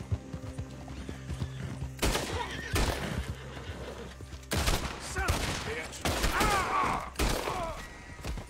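Rapid rhythmic hoofbeats of a galloping horse in a game, with heavy thuds and bursts of noisy impacts, loud and busy throughout.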